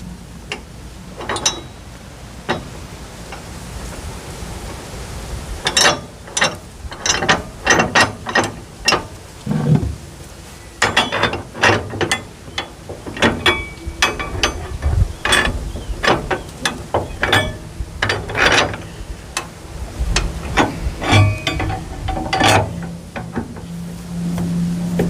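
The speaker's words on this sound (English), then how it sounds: "I'm going to allow that ratchet to pull the strap in and secure it in place." A ratchet strap on a trailer hauling a John Deere 50G excavator clicks repeatedly as it is cranked tight, with sharp close ratchet clicks coming in uneven bursts over a low background hum, without talk.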